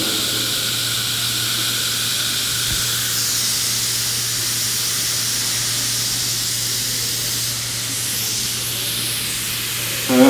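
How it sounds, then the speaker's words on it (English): A Titomic robot nozzle sprays metal onto a plate as a steady, loud, continuous hiss of high-pressure spray, unbroken for the whole stretch with a constant low hum beneath. "we're just showing you as we're spraying a vertical onto a plate"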